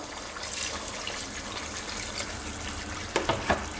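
Cold water splashes and trickles steadily into a cooking pan of boiling eggs and potatoes for curry, a soft continuous pour with a few sharper splashes near the end.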